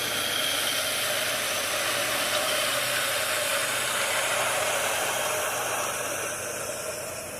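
A pressure washer with an M5 downstream injector and fan tip, running at 4 gallons per minute, sprays and saturates the side of a house. It is a loud, steady hiss and rush that fills the whole clip and fades slightly near the end.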